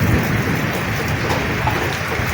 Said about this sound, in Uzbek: Ammo bu ozgina momaqaldiroq ovozi.